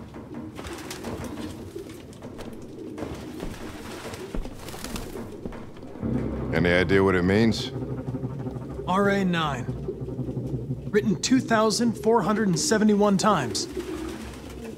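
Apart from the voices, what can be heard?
pigeons cooing, from the video game Detroit: Become Human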